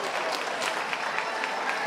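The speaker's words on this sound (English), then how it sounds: "we're going to give one more round of applause for Donna and Owen." Steady applause from a crowd, continuous clapping at an even level throughout, with scattered sharper claps standing out.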